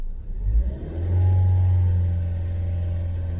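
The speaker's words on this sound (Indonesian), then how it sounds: "Cobakan kita gas dulu" A car that had stalled and would not start is revved after the battery is charged, a loud close engine rumble that rises in a low growl and then holds at a steady elevated drone.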